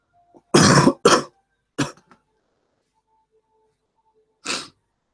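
A few sharp, close sniffs come in quick pairs, then a lone one after a long quiet gap, with no talking.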